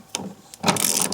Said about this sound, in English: So I've got our deep socket here. Let's go ahead and tighten that down.